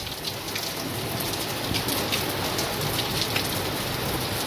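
Heavy monsoon rain pouring down in Surat, a dense, constant roar of drops hammering surfaces nearby, steady and loud throughout with no voices.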